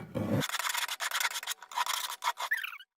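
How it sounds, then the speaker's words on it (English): Hand file rasping across a metal anticlastic cuff during finishing, a steady run of close scraping strokes after a brief low thump at the start. "after you've filed with the finer hand file"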